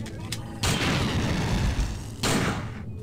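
Gunfire in the video game System Shock 2 comes as two loud bursts, the first a long sustained crackle lasting over a second and a half, the second a shorter blast near the end, with quieter game ambience around them.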